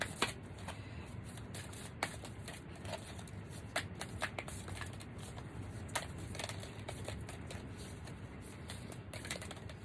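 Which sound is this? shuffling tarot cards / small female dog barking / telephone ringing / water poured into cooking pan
shuffling tarot cards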